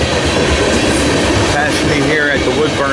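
A southbound freight manifest train on the Trenton sub rolls past Woodbourne station, loud and close, with steady clickety-clack of wheels over rail joints and faint wheel squeal, continuous throughout.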